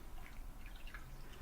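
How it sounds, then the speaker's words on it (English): Water drips and trickles softly while reborn doll kit legs are dipped and wiped in a basin, faint scattered drops and small splashes close by, with no voices. "put the legs in, and then submerge them in the water, and then wipe them off"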